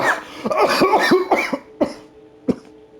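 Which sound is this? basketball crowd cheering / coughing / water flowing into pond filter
coughing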